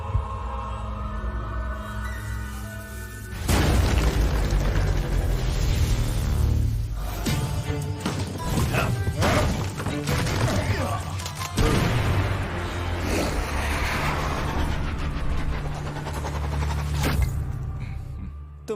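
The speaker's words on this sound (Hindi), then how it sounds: "धमाका।" An explosion sound effect from the anime Lord of the Mysteries, a loud rumbling boom that erupts after a quieter opening and rolls on with crashing, creaking debris and repeated heavy impacts, fading near the end.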